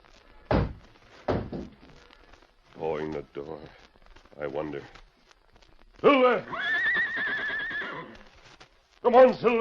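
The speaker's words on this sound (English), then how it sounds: "he heard a sound, the whinny of his great horse Silver" Silver, the Lone Ranger's great horse, whinnies in a long, loud neigh after heavy thuds and hoof knocks, with shorter whinnying bursts around it in a radio drama scene.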